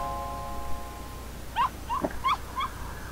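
Short yappy barks and whimpers from a cartoon dog in the Wii game WarioWare: Smooth Moves, four quick chirpy yelps spaced across the second half over a faint electronic hum.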